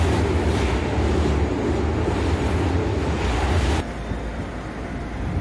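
Keio line train made of 7000-series four-car and two-car sets pulling out of Shinjuku station, a loud steady rumble of wheels and motors that drops abruptly in level near the end, no voices.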